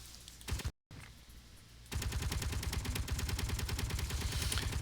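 Rapid automatic gunfire from Space Engineers, a steady near, loud mechanical rattle of repeated shots that runs unbroken after a short gap, with no voices over it.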